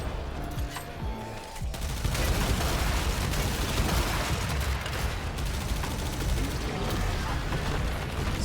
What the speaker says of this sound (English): Then we can get our arc gun back out.